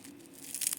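A crispy fried jute leaf fritter crunches in a short burst of brittle crackling. The crackling builds toward the end over a low steady hum, and nobody speaks.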